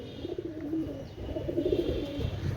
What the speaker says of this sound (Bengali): সুপার কোয়ালিটির কবুতর, নিশ্চিন্তে নেবেন